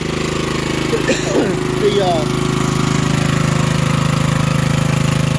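A bucket lift's engine, with its muffler and guard in place, runs loud and steady with a constant droning hum throughout, while a person talks briefly over it.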